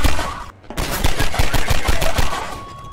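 Rapid automatic gunfire in the video game Half-Life 2, a loud, dense burst of repeated shots firing in a fast steady rhythm for a couple of seconds, close and dominant, with no talking.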